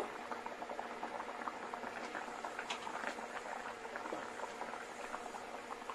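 A pot of thin hilsa fish curry with chillies simmers steadily. A close, continuous bubbling and popping keeps an even, moderately quiet level with no talk.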